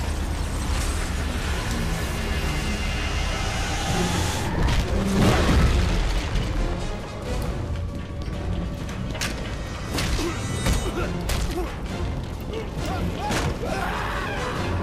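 Explosions going off all around in the Wolfenstein finale, heavy booms and crashing thuds, with a big blast near the middle and further impacts scattered through the rest of the clip, loud and close.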